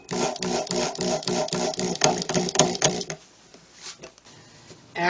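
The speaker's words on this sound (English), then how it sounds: "I screw metal plates to the bottom of the table for attaching bun feet." A power driver runs screws in rapid buzzing bursts while fastening metal plates to the underside of a wooden table, a few seconds of close whirring followed by quieter handling noise.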